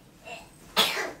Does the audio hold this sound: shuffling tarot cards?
no